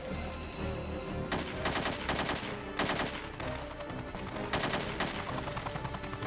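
Rapid bursts of gunfire from the video game Parasite Eve 2, with high-caliber rounds firing in repeated loud volleys over a dense, constant game soundtrack.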